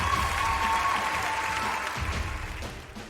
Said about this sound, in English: A huge round of applause to all the winners.